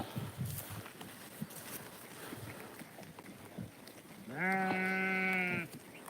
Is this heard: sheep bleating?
yes